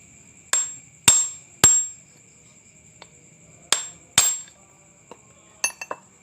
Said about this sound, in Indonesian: Kemudian kita pukul pakai palu, ketok pakai palu